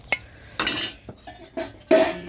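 Tempering added to a dry fish sambar: a few sharp metallic clinks and scrapes of a ladle against a pot, with brief bursts of sizzle, close and fairly loud with pauses between.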